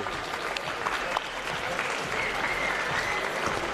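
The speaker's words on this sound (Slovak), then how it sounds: "Veľký potlesk pre obidvoch borcov." Sustained crowd applause fills an arena after a combat-sports fight between two fighters, steady and fairly loud throughout with no talk over it.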